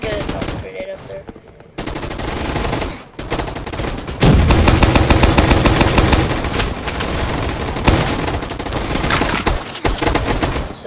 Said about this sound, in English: So today I'm using the Snowball launcher.